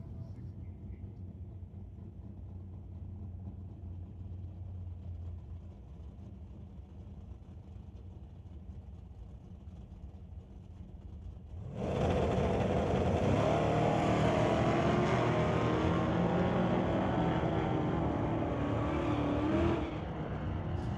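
An 1985 Chevrolet S10 pickup launches at a drag strip, a loud broadband engine roar bursting in after a quieter stretch of low rumble and sustaining near and steady before easing off at the end, with announcer talk faintly underneath.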